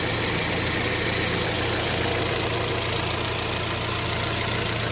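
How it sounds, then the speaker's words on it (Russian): A fully warmed-up, high-mileage Kia Rio engine idles steadily nearby with a low, even hum and faint rapid ticking knock of piston slap running throughout. "Не знаю, передаст ли видео перекладку поршней, но сейчас мотор полностью прогрет"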